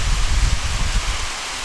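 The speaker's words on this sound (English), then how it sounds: "That's the rain, listen!" Heavy rain in a Gears of War game trailer, a dense, steady hiss of falling rain with low rumbling wash beneath, loud and continuous.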